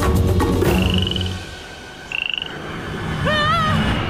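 Two short bursts of frog croaking, a low buzzy call and then a rapid pulsed croak, over a rumbling background with a few chirpy tones near the end.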